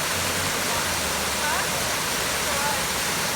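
Waterfall pouring into a cold mountain stream, a steady close roar of rushing water that fills the whole clip without pause.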